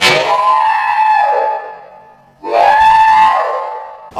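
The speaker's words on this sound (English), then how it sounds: "All the screaming that you hear" Two long, loud, shrill screams of fright over a rat, each about a second and a half, separated by a brief pause, with the start of a third cutting in at the end.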